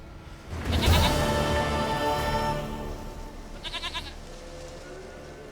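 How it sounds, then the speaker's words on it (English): A goat bleats loudly and close in The Witcher, a harmonic wavering cry lasting over a second, followed by a shorter, fainter pulsing bleat. "Goat of mine, dearest, sweetest goat."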